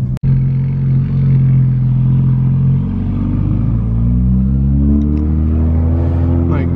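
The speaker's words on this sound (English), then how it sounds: "My goodness, that cold start." A Toyota Supra engine cold-starts with a sharp crank, then settles into a loud, steady low idle that rises into a climbing drone; close and alone.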